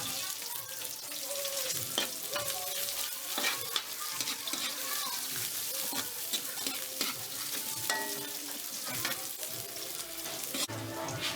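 Onion and garlic sizzle in a pan for chicken feet adobo, a busy crackling hiss broken by frequent scraping stir strokes, close and steady with no talk.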